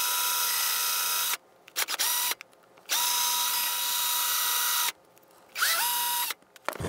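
A power drill runs in loud sustained whining bursts while boring into a model DCC locomotive for an LED, starting and stopping several times with short pauses between runs.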